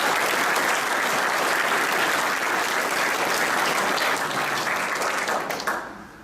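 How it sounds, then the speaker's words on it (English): Steady, loud applause from a graduation audience honoring Class 18 at an NCO academy ceremony, a thick continuous clapping that holds for about six seconds before tapering off. "Please round of applause for Class 18."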